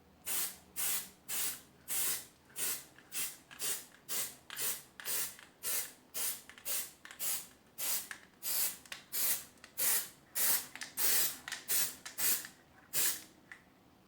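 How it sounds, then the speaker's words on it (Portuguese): Spray paint from a can, shaken first, hisses onto a stencil in quick, evenly spaced bursts, roughly two dozen short loud sprays in a steady rhythm, close by and with no talking. "E você vai marcar com o spray."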